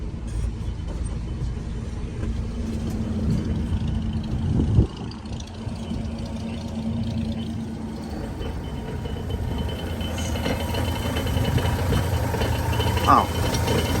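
A 1965 GMC 1000 short-bed pickup idles in neutral, a steady low engine rumble running throughout at a constant level, with one brief knock near the middle and a faint click late on.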